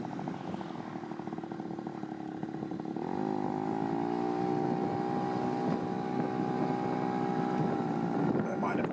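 A small moped's engine rises to a steady, high buzzing whine at top speed of around 42 mph, accompanied by rushing wind noise across the microphone and picked up at a fairly low level.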